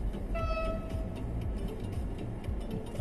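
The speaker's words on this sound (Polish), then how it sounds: "Pociąg jadzie." A train rumbles past at a distance near a level crossing, steady and low, with a brief faint horn tone near the start.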